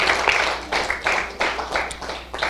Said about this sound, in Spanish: Dale un aplauso a Cristo, hermano.